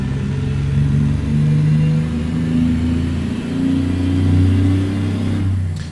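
A truck engine in American Truck Simulator, hauling cull cows, revs with a close, heavy rumbling drone whose pitch rises and dips slightly, alone with no talk.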